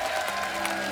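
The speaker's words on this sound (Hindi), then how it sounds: "आप सबकी जोरदार तालियों के बीच प्लीज वेलकम" A studio audience on a Hindi TV comedy show claps during a guest's welcome, a brief burst of close, dense applause with a faint murmur of voices underneath.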